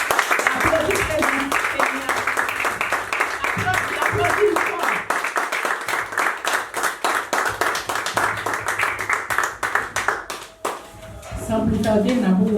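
Church congregation clapping along steadily during worship, a dense rhythmic patter of many hands under continuous singing voices, fairly close and sustained, with a short lull near the end.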